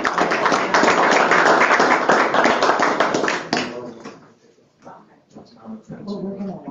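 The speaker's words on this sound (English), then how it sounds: "let's give her a round of applause." A round of applause at a school board meeting, dense clapping from a group for about three and a half seconds that stops abruptly, followed by quiet voices talking.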